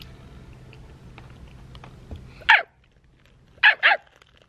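A dog gives three sharp barks at close range, a single bark followed a moment later by a quick double, breaking into a quiet indoor scene with faint background murmur.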